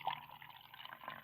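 Water is poured from a container into a plastic bottle to make a tornado in a bottle, a faint, close trickling fill that runs smoothly for about a second.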